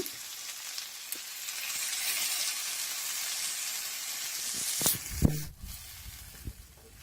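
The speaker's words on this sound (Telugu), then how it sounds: "ఇవన్నీ కొంచెం ఫ్రై చేయాలి, ఒక 2 minutes." Onions, tomato and green chillies sizzle steadily in a hot pan with a bright, hissing crackle, then a few sharp clatters of a spoon stirring near the end.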